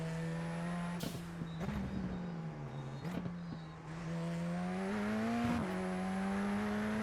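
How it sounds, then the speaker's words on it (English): Race car engine in iRacing drones steadily with shifting pitch, punctuated by several short sharp bursts as the driver lifts off the accelerator, consistent with dump valve release, alone without talk. "when we lift off the accelerator, get that lovely dump valve noise"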